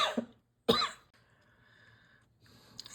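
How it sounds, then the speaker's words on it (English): Two sharp coughs close to the microphone, the second one harsher, followed by a quiet room with a faint steady hum, as someone crafts tags and dangles from a chindi rug. "Sorry for the little coughing fit."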